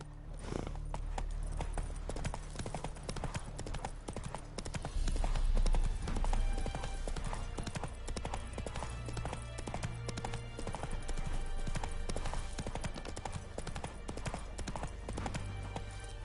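A horse gallops in The Witcher 3 video game, with a steady, rapid clip-clop of hooves running throughout the scene against a soft game ambience.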